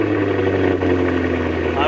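Cadillac Blackwing V8 engine idling steadily just after startup, a loud close rumble with a low throbbing drone and faint crackle throughout, continuous with no pauses.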